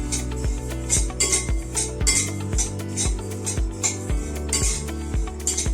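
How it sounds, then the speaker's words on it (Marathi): Coriander seeds dry roasting in a metal pan, with repeated scraping and clinking of a spoon against the pan in a steady rhythm, close and fairly loud, with no talk. "राहिलेले धने आहेत ते पण मी आता असे भाजून घेणार आहे."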